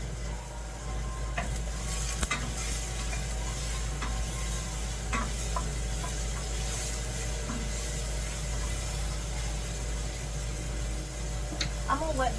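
Onions and garlic with a pinch of salt fry in a pan for a tomato bread soup, giving a steady, close sizzle with faint stirring clicks and scrapes throughout, under a low background hum.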